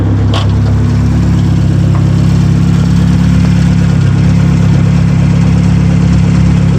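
A Merkur XR4Ti with a turbo engine and loud side-exit exhaust idles close by, a steady deep low rumble holding throughout with a brief higher click near the start and no talk.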